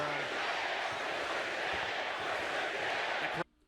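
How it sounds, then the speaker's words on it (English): A lively arena crowd at a boxing event roars in a loud, continuous wall of voices for over three seconds, then cuts off abruptly. "Crowd is lively"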